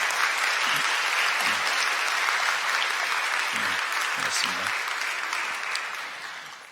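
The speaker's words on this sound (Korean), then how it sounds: "여러분들 환영의 박수 부탁드립니다." Church congregation applauding to welcome a newly registered member during a Sunday worship service, a steady broad wash of clapping throughout that fades toward the end, with a voice speaking briefly over it.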